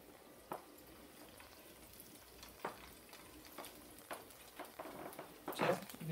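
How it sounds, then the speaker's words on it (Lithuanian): Salmon fish frying in butter in a pan, giving a faint, steady sizzle broken by a few soft crackles and pops, with a brief louder burst near the end. "Žuvis gražiai kepa."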